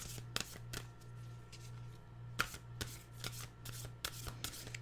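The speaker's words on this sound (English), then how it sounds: "We'll get our Nature's Whispers cards." Nature's Whispers oracle cards being shuffled by hand, a quiet close series of crisp riffling bursts and flicks in an irregular rhythm, with no talking over them.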